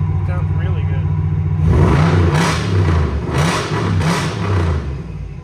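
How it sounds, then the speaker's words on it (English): A Y2K Cadillac concept car engine revs up in several bursts over its rumbling idle, with a whining power steering pump tone rising with each rev. "I hear a whining power steering pump"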